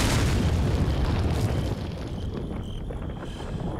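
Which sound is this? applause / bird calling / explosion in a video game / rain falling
explosion in a video game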